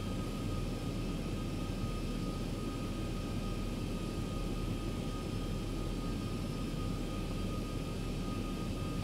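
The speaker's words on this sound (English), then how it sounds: "Is that a 777 taking off out of LaGuardia?" A Boeing 777 taking off in the X-Plane 11 flight simulator, with a steady, loud jet engine roar that holds constant throughout and is heard alone, without talk.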